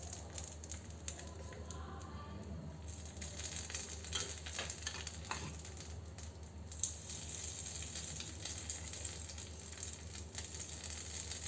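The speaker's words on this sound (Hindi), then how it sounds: "ये देखिए चटनी के ऊपर डाल देंगे हम ये तड़का जो बनाया है।" Hot tadka with dried red chillies poured over chutney, sizzling and crackling steadily in a quiet, close-up kitchen with no talking.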